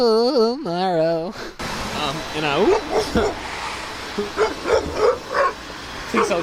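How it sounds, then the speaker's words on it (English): A dog barks several times in short bursts outdoors near a cathedral in Poznań, Poland, following a sung melodic phrase at the start, with people talking over the barks. "Please hold your dog back."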